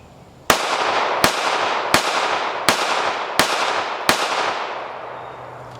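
Six evenly spaced sharp shots from a Colt micro 1911 pistol in .380 ACP, each a loud crack with a short ringing decay, fired at a steady pace, close and without talk.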